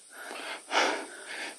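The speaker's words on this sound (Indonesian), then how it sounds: "sampai habis nafas" Heavy, wheezing breaths from a hiker out of breath on a steep climb up the Gunung Buthak mountain trail, three close ragged pants in quick succession with no talking.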